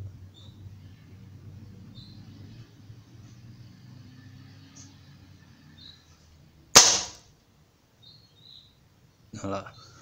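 Sharp, loud snap of a Gamo CFX 5.5 spring air rifle firing at 15 metres in a quiet outdoor setting, with a second softer crack later and faint birds in the background.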